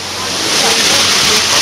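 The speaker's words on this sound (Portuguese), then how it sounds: "Essa é a cachoeira do Poço Água Fria." The Poço Água Fria waterfall in Venezuela's Gran Sabana pours in a loud, close, steady rush of falling water that swells slightly and never breaks.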